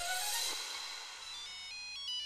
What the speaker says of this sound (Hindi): प्रकाश का फोन है।